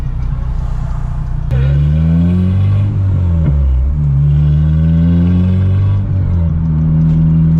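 A manual Honda Civic's engine revs and pulls through gear changes while driving, a loud close rumbling drone that rises and falls in pitch with brief dips between shifts.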